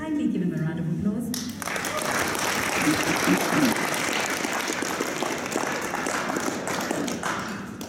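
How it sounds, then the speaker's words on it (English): A crowd at a celebration event breaks into sustained, loud applause with dense clapping that fills the space, preceded by a brief burst of voice and continuing steadily to the end. "kindly give him a round of applause"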